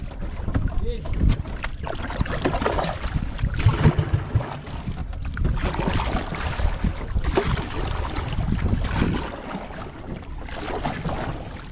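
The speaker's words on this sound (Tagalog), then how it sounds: "Ito ang bangka nila." Small Philippine fishing boat out at sea, a broad steady wash of engine, water and wind buffeting running throughout, loud and continuous with no clear pauses.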